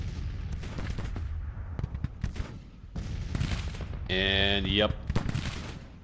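Gunfire in a Grand Tactician battle, with a rapid scatter of sharp crackling shots and distant booms over a steady rumble. A brief tonal effect rings out midway, and someone speaks briefly.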